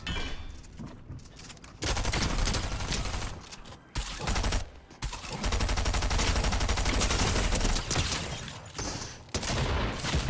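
Rapid bursts of submachine gun fire in Fortnite rattle loudly, broken by short pauses between volleys, with no talking over them.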